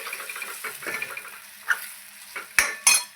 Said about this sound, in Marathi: वांगी छान तेलामध्ये अशी परतून घ्यायची.